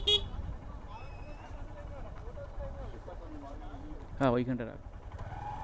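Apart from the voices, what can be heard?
cars arriving and honking in traffic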